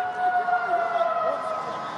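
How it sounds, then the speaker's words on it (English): A steady siren at an ITM Cup rugby match between Bay of Plenty and Taranaki signals referee's time, a sustained tone held under crowd noise and commentary for about two seconds. "The siren."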